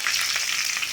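Mustard seeds and curry leaves frying in hot oil for a village-style sundakkai kulambu, a close, bright crackling sizzle filling the whole second with small popping bursts.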